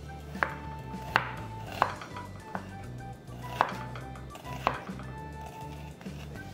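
Knife chopping a whole white onion into strips on a board, a few sharp distinct chops spaced irregularly, close and clear against a quiet background.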